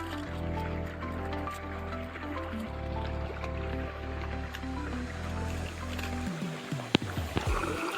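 Irrigation water runs through a farm channel alongside a field of ripe cotton, a continuous rushing flow beneath a loud, steady engine-like drone, with a few splashes and clatters near the end.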